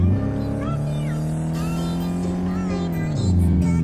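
A Ferrari in the video game Euro Truck Simulator 2 accelerates, its engine note climbing in a loud, sustained rising drone that briefly drops as the gear shifts, then climbs again.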